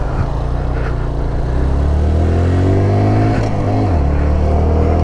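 A 2018 Honda Grom motorcycle pulls away, its small engine droning loud and close with rising harmonic pitch as it accelerates, then a shift drops the tone before it climbs again.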